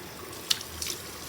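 Water running from a tap into a kitchen sink at home, a soft, steady trickle with a couple of brief splashes, faint and close without any voices.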